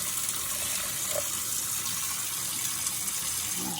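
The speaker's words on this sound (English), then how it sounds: "now I'm going to put 350 grams of water in the same bowl" Warm water poured into a mixing bowl for sourdough bread, a steady close splashing gush that runs alone without pause.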